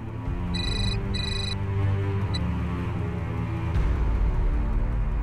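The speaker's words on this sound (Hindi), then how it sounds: "विनय जी की माँ का फोन इतनी सुबह सुबह?" A telephone ringtone chirps in two quick electronic bursts with a brief third blip, heard over a low background music bed in a dramatic TV scene.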